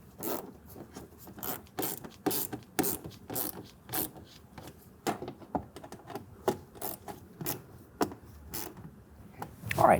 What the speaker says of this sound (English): we can go ahead and tighten everything down using a Phillips head screwdriver for these 2, and then the 7mm down below